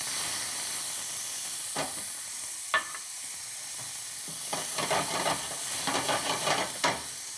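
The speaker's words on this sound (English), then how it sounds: "In the same pan where we cook the scallopini, we go first with some chopped onions." Chopped onions fry in a pan used for scallopini, with a continuous hissing sizzle broken by repeated crackling bursts and a few utensil clacks that grow busier toward the end.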